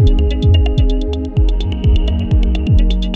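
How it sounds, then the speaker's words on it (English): Glitchy electronic beat made with Ableton Live's LFO effect: punchy kicks with swooping pitch drops repeat in a steady, slightly stuttering groove under a rapid train of crisp, bright ticks, loud and up close. "very active and engaging but also pleasantly glitchy soundscape"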